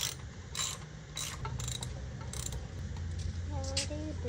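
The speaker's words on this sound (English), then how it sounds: "We're tightening these bolts underneath here." A ratchet tightens the winch mounting bolts under the bumper of a Jeep Gladiator, making steady repeated clicking bursts over a low background hum, with a brief voice near the end.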